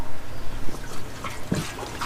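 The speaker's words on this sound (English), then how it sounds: "But first I want to rinse it out with a little bit of fresh gas." Fresh gasoline sloshes and trickles inside the gas tank of a 1974 Honda MT250 Elsinore barn-find motorcycle as it gets a rinse: soft, close liquid swishes with a few brief drips and splashes.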